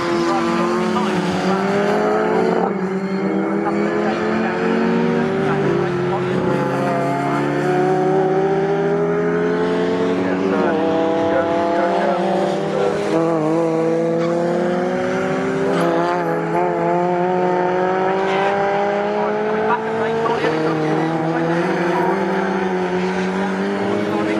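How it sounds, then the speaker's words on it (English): MG race cars in a Cockshoot Cup race at Snetterton scream past, their engines wailing as they rise and fall through the gears, with tyre squeal now and then, loud and continuous under steady commentary. "Ray Collier and David Morrison making their way up across the line"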